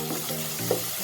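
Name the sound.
ginger garlic paste frying with golden onions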